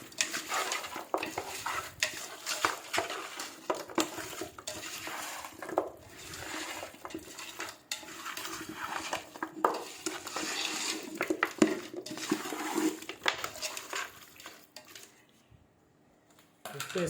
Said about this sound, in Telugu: అల్లం వెల్లిగడ్డ పేస్ట్, వేసి బాగా కలుపుకోవాలి.